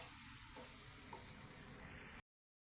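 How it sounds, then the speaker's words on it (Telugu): Turmeric-spiced masala frying in a pan for prawn curry, a steady close hiss and sizzle with faint crackles, unbroken for about two seconds before cutting off abruptly. "దీన్ని ఇంకా ఒక రెండు మూడు నిమిషాలు ఫ్రై అవ్వనివ్వండి బాగా"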